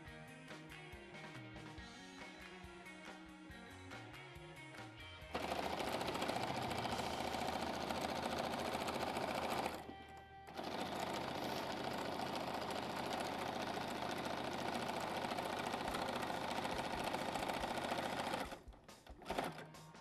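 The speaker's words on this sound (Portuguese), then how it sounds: "Vamos costurar toda a volta" Sewing machine stitching around the back cover of a fabric piece, a steady loud mechanical whir that starts after a few quieter seconds, pauses briefly midway, then runs on before stopping near the end.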